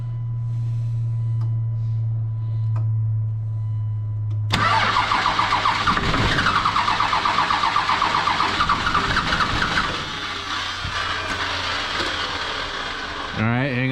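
12 valve Cummins diesel engine with an injector line cracked open, a low steady drone at first, then a sudden loud cranking burst churning for several seconds and fading to a rougher idle, ending with a short squeal.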